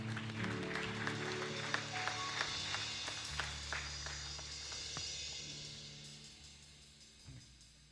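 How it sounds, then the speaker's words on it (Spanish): A church congregation claps in a burst of applause that starts full and gradually thins and fades, with faint voices beneath. "Démosle palmas al Rey."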